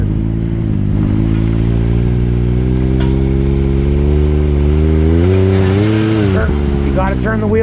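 An off-road truck stuck in muddy ruts idles loudly and revs up and down, the engine note rising toward the end, with people talking in the background.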